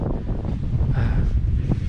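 Wind gusting steadily across an open mountaintop beside a hilltop shrine, a loud continuous rumble buffeting the microphone with no voices.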